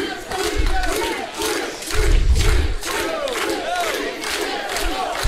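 A pro wrestling crowd cheers and chants for Sweet Scott Ashworth in rhythmic waves, loud and dense, with bursts of shouting swelling and fading across the arena.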